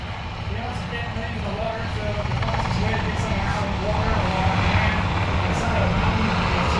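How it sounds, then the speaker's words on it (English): An HH-60 rescue helicopter's engine and rotors drone steadily at an air and sea show, a loud continuous roar that grows slightly stronger, with faint voices underneath. "These are the HH-60 helicopters that are recovering the simulated downed airmen out of the water"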